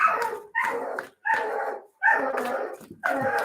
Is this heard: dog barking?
yes